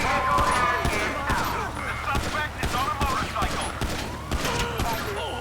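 Gunfire during a police shootout in GTA 5 rattles in dense, repeated bursts over a busy game soundscape, loud and close, with a voice talking underneath.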